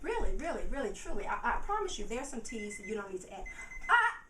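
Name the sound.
alarm going off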